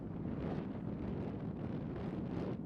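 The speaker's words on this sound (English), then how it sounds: "you can just hear that wind and see it whipping their shirts around" Strong wind gusting across an outdoor disc golf course during a tournament round, buffeting the microphone with a dense, continuous low roar that swells and eases slightly, with no speech over it.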